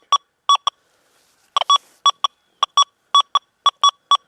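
Short bursts of bright electronic beeps from a metal detector's audio response, sound in an uneven series, with clear silence between the tones and no talking.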